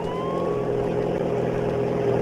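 Police car in a video game driving past, a steady engine hum with a faint rising siren tone at the start, continuous and fairly close.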